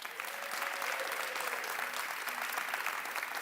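Audience at a school district's annual report event applauding the schools, staff and students, with dense, sustained clapping from a large crowd that rises and holds steady.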